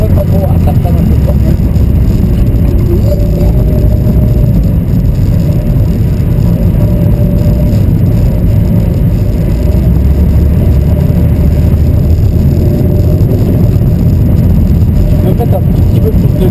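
A Mitsubishi Lancer engine on the Flaine ice circuit, a loud, continuous close drone that holds steady throughout, with a voice speaking over it.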